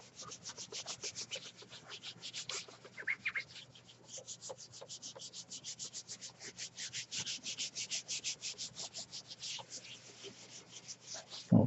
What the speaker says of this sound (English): Rub it down firmly.